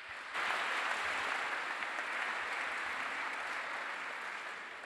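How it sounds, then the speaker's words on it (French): Applause from an evening audience at the Sorbonne in Paris during a research night event, a dense, even wash of clapping that starts abruptly and holds steady, slightly distant, with no voices. "Je vous demande de les applaudir, s'il vous plaît."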